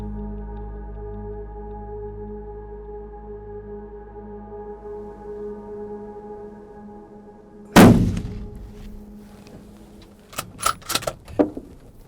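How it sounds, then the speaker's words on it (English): A deer hunter's rifle shot at a buck in Kentucky: one sudden, loud crack breaks a low, steady hum, then scattered clicks and rattles follow a few seconds later. "I took the shot."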